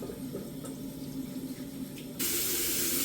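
Tap water runs into a bathroom sink during face washing, a soft steady splash that suddenly grows louder and brighter near the end as the flow increases.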